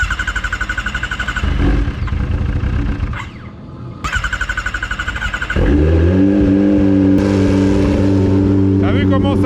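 Turbocharged sport motorcycle, a Hayabusa or ZX10R turbo build, being started: cranking and revving with a brief dip, then a loud, steady, throaty idle settling in, with someone talking over it.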